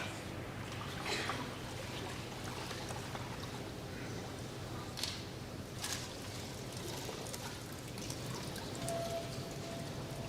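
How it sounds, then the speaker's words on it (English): Cold water poured over cooked noodles, a steady splashing rush held for about ten seconds at moderate volume, with no talking. "I'll recommend using cold water to kill the cooking process"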